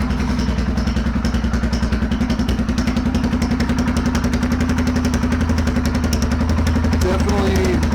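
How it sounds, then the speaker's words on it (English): A Royal Enfield Himalayan motorcycle engine with no muffler at all idles loud and close with a rapid, choppy beat that holds steady throughout, with a slight rev near the end. "what this sounds like with no muffler whatsoever"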